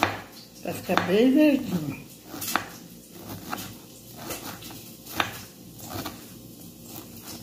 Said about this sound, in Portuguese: Tô cortando aqui a verdura aqui, ó.